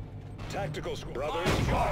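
Gunfire from a tactical squad in the Dawn of War II strategy game, a dense mix of clattering shots and mechanical bursts, swelling louder near the end, with soldiers' voices calling out over it.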